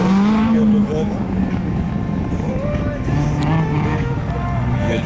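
A Citroën Saxo VTS race car runs a slalom course at Agon-Coutainville, its engine note rising and falling through revs, with some wind buffeting on the microphone.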